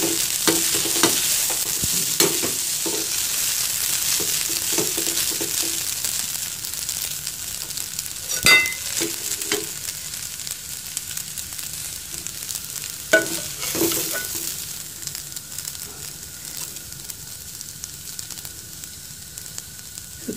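Tadka tempering sizzles steadily in a pan while being stirred, with scraping strokes and occasional sharper knocks over a continuous frying hiss, fairly close and alone without talk.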